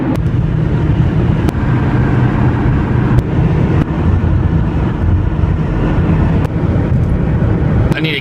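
Steady broadband rumble of a car cruising on a highway in cold weather, a continuous loud low road and engine drone with a few faint ticks, no talking.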